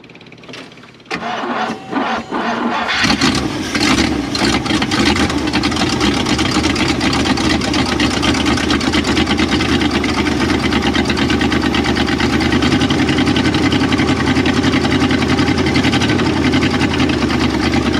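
An old Jeep engine with a newly installed high-performance radiator cranks briefly, catches after a few seconds and settles into a loud, steady, slightly rough idle that continues to the end.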